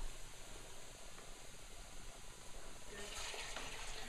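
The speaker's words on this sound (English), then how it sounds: "So now I'm going to pour the turkey stock over the vegetables" Turkey stock is poured over softened vegetables for turkey soup, a soft, steady stream of liquid with the splash swelling louder toward the end.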